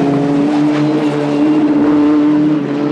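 Sports 2000 race cars on a circuit in a 1998 pilot race series, a loud sustained engine drone with steady pitch as the cars run at speed.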